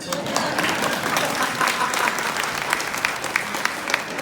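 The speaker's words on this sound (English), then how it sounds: "Go ahead, women, you can clap." Women in an audience clapping during a talk, a lively burst of dense applause with distinct individual claps, fairly loud and close, sustained throughout.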